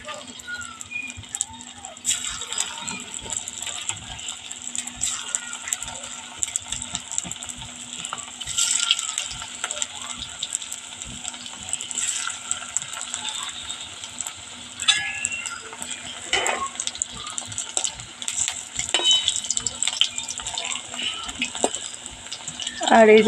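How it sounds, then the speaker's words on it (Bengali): Leftover rice pakora fries in hot oil with a steady crackling sizzle, broken by occasional stirring clinks and scrapes, while a voice talks over it. "দেখেন বেশ লাল লাল করে ভেজে নিতে হবে"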